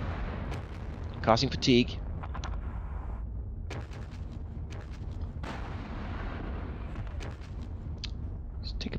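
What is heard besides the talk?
gunfire at Sherman tanks in Panzer Battles video game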